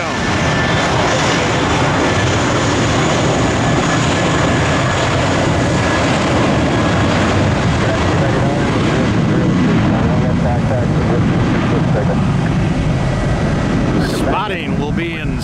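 A 15-year-old Airbus A320 airliner sets down on the runway at Tampa. Its engines give a loud, steady broadband roar that fills the whole stretch, with a faint voice underneath.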